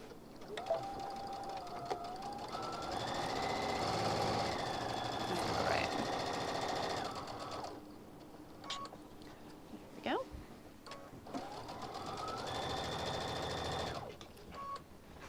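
A sewing machine back stitching through fabric, running in steady whirring bursts that speed up and slow down with brief pauses, close by, with someone talking over it.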